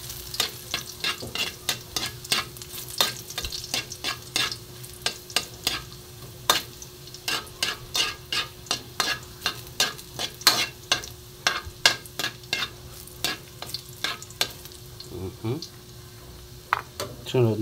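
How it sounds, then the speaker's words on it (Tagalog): Garlic frying in hot cooking oil crackles and sizzles steadily, with sharp pops and stirring clicks scattered throughout while a person talks over it. "mainit na ating mantika guys. Lagay na natin yung ating bawang"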